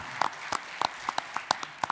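At a board of education meeting, a few people in the audience clap, producing sparse, separate hand claps in an irregular rhythm that sound faint and thin in the room.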